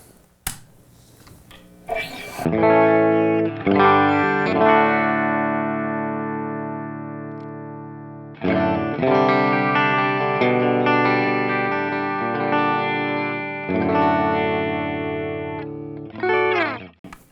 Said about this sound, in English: let's hear a couple strums and get a little bit of sense of what this amp sounds like